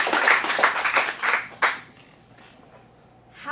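Audience applause for a performer at an adult acting studio script showcase in Phoenix: dense clapping from a small crowd for about a second and a half, a final burst, then fading into quiet room tone.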